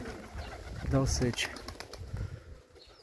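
Pigeons outdoors near their loft give a short burst of cooing and soft wing sounds, moderately close, while someone speaks briefly over them.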